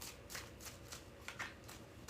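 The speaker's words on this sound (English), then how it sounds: "We need 3 more shuffles" A deck of cards being shuffled for a card reading, a series of quiet riffling bursts at an uneven rhythm, close and soft, with no voices.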